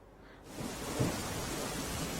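Heavy rain pours down in Dwarka, a dense, steady hiss that swells in after a quieter start, with a low thunder-like thump near the first second.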